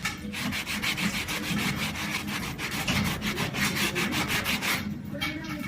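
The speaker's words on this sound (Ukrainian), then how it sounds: "Зараз спробую витерти тряпкою, подивимося, що воно вийде." A rag is rubbed back and forth over rusty metal to wipe off white residue left by rust converter, a steady, rhythmic scrubbing close up with regular strokes and no talking.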